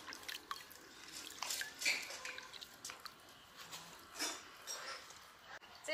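Hot water runs through a pig intestine casing during homemade sausage preparation, giving soft intermittent dripping and trickling splashes close by, quiet and uneven, with no speech over it.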